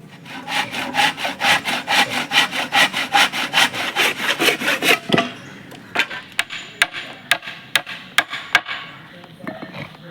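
Hand saw cutting wooden leg pieces for a chicken coop: a rapid run of loud, rhythmic back-and-forth strokes, then slower, more spaced single strokes as the cut finishes, close by with no talk.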